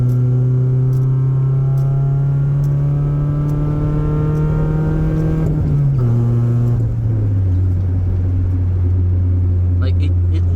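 A 1995 Ford Probe's engine pulls hard under kickdown, its loud, steady drone climbing in pitch, then dipping as the gearbox shifts before building again close up.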